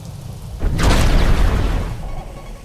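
Thunder from a rainstorm in the Roblox game Brookhaven RP breaks in as one loud, deep rolling rumble that swells quickly, holds for about a second and then fades over steady background noise.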